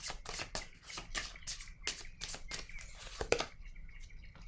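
Tarot cards are shuffled and drawn by hand in a quiet room, giving a run of soft, crisp riffling bursts and slaps with short pauses between them and no talk.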